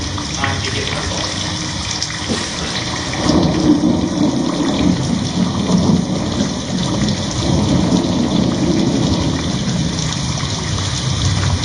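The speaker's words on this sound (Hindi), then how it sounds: "बरसात हो रही" Steady rain and rolling thunder used as a sound effect in a Hindi stage play, a continuous loud wash of downpour with heavier rumbling swells through the middle.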